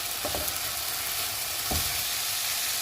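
Chicken mince with red chilli powder, black pepper and vinegar stirred in a hot pan: continuous close sizzling with a few soft scraping strokes of the spoon, no talking.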